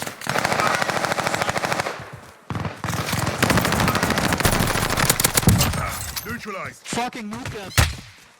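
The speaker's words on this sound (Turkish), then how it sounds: "Sniper sıktı bana üstten." Gunfire in the shooter game Warzone, including sniper shots: rapid bursts of loud shots roll on for several seconds, with a player talking over and between them.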